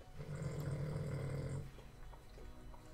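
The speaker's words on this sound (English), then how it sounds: "My dog sleeps behind me and snores." A sleeping dog snores with a deep, rough, rumbling breath that runs steadily for about a second and a half, then drops to quiet room tone.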